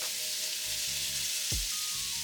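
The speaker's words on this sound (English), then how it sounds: "lay your lamb chops down and let them breathe in the pan" Lamb chops sizzle steadily in a hot pan, a bright broadband frying hiss throughout with a brief low thump near the middle as a chop is set down, no voices.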